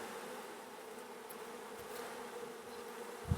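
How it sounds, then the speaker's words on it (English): Honey bees buzz steadily around an opened hive during a queen-cell check, a soft continuous hum with a brief thump near the end. "These bees are so gentle too."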